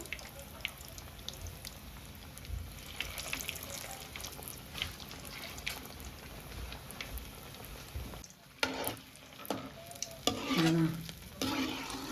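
Cheese balls fry in hot oil with a soft, continuous sizzle and bubbling, interrupted by a few clinks and stirring noises, heard close and fairly quiet.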